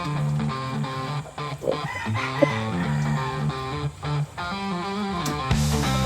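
A gamecock crows and clucks repeatedly near at hand, its calls sitting over a continuous tonal background with steady harmonic hum.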